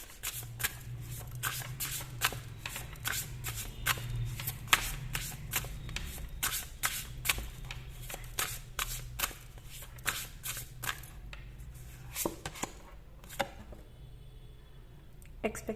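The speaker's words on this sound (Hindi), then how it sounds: "तो अगर आपको अच्छा नहीं लगता है कार्ड शफलिंग देखना, तो आप स्किप कर सकते हैं" A deck of tarot cards is shuffled by hand over and over, making a dense, rapid run of crisp papery slaps and riffles up close that continues steadily before thinning out toward the end.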